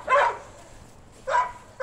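A fat dog barks twice near a doghouse: two loud, close barks about a second apart, with quiet between them and no talking.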